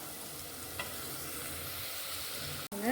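Onions frying for restaurant-style chana masala, a continuous close sizzle with steady stirring scrapes in the pan and a brief dip near the end; nobody speaks.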